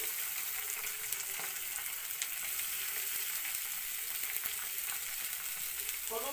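A spice mix frying in hot oil gives a soft, even sizzle that runs steadily throughout, fairly quiet and close, with no voices.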